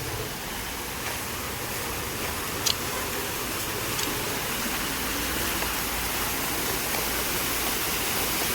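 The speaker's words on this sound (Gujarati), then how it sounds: "અહીં કેવું પાણી આવે જો." Water pours steadily from a fountain pipe at a temple, a constant close rushing hiss with a couple of faint ticks and a low rumble beneath.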